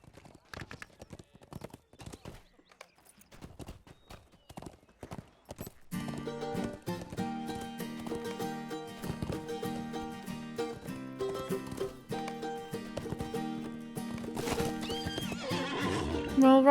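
Video game horse galloping through jump trials in a Rohan-style setting, steady rapid hoofbeats first alone and faint, then loud under swelling orchestral music, ending with a sharp whinny.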